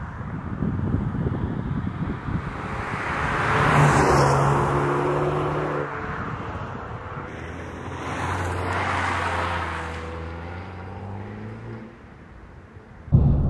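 An Abarth 595 Esseesse car engine revs loudly, climbing and falling in pitch through a couple of sustained surges, with wind noise rushing over the microphone.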